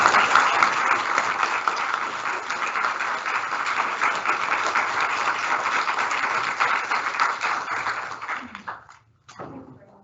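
A panel's audience at an NMBI summer event at TUS Athlone claps steadily and fairly loudly for about eight seconds before the applause fades out, ending with a brief sound after a short pause.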